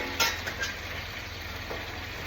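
Rice being stirred in a frying pan for Puerto Rican-style Chinese fried rice, a soft continuous sizzle with scraping utensil strokes, a sharper clink near the start, moderately close.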